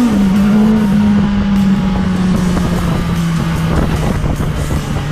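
A 2020 BMW S1000 XR motorcycle, a 165 hp sport tourer, drones loud and close on a test ride, its engine note holding steady and easing slightly lower amid rushing wind.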